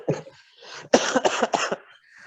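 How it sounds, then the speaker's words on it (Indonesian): A quick run of several dry coughs, close and fairly loud, after a short throaty sound. "Sampai batuk saya"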